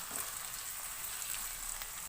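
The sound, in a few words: chopped tomatoes frying with onions in karahi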